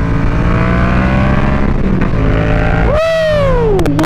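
A Yamaha MT-07 motorcycle engine on a test ride roars loud and close, holding a steady drone before revving up sharply and then easing off.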